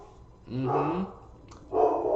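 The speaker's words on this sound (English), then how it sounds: "You hear my dog Lucy? She knows what to do" A pet dog gives short barks in two bursts, close and fairly loud, with a rougher growling edge, over a quiet room background.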